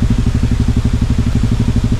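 A motorcycle engine runs close by with a fast, even chugging pulse, loud and steady for the whole stretch with no talk over it.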